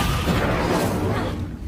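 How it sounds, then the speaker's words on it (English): A dense, sustained explosion roars in the Hogwarts Legacy video game, broadband and unbroken for under two seconds with no clear separate blasts. "Explosion!"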